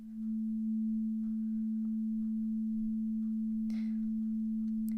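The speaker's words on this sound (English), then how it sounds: "then we should hear an A sine wave" Steady A-note sine wave from a homemade synthesizer, a single pure sustained tone holding evenly for the whole stretch, with faint clicks and a short hiss near the end.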